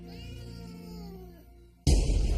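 A cat meows in a long, wavering, drawn-out cry that fades near the end, cut off by a sudden burst of broadband noise.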